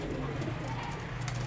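Pigeons of the Ferozpuri and Banke breeds cooing in a low, throaty, continuous murmur close by, with faint background noise and no talk.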